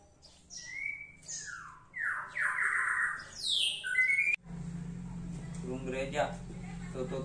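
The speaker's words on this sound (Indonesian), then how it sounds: "Tuh burung gereja." A house sparrow chirps nearby in a quick run of bright, sharp calls for about four seconds, then a person talks while faint bird sounds continue behind.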